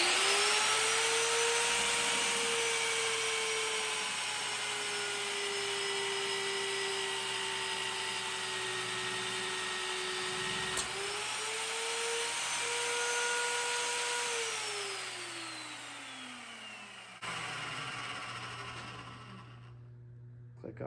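A Vevor magnetic drill press runs for about twenty seconds, a loud close motor whine that shifts pitch slightly as it works, then drops and fades near the end, with a faint voice underneath.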